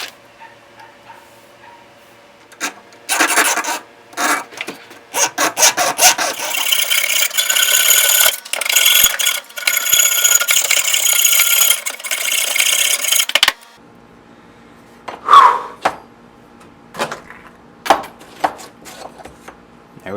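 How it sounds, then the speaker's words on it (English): Hacksaw cutting a steel knife blank in a jig, close rasping back-and-forth strokes in irregular bursts separated by pauses, with a few scattered clicks and scrapes toward the end. "this is way harder than I thought it was going to be with the jig. Sorry with the hacksaw, but it's coming along."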